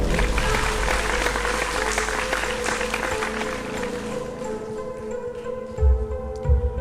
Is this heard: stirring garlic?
no